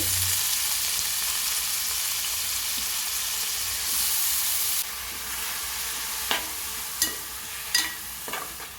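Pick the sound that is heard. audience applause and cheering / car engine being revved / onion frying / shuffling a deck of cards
onion frying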